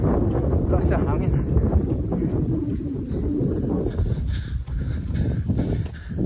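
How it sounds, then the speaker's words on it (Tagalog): Strong wind buffets the microphone during a 10 km run in a steady low roar, loud and continuous throughout, with faint rustling underneath. "Lakas sa hangin."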